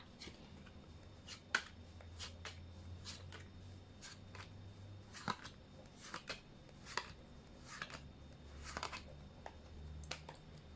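Tarot cards being shuffled and drawn, soft papery slaps and riffles in an irregular sequence, close but quiet against a faint background hum with no speech.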